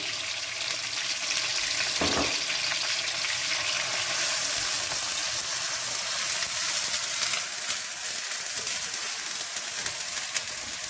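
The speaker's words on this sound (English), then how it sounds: "So the oil is getting hot. We'll add our onions, diced onions." Diced red onions frying in hot oil, a steady close sizzle with a bright crackling hiss, a brief thump early on and no voices.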